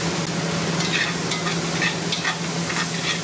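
Onions and mushrooms cooking in bacon fat in a pan for beaver stew, giving a steady, close sizzle and fry with occasional soft stirring scrapes throughout, no talking.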